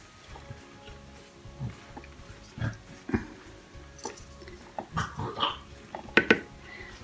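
Small puppies whimper and squeak intermittently, faint and close, with soft rustling between the yelps.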